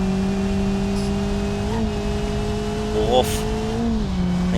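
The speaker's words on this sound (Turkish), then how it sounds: "Arabanın sesi bir garip böyle" A car engine in the video game BeamNG.drive drones steadily with a buzzy tone, rising and dipping slightly in pitch as it revs, heard up close without any talking.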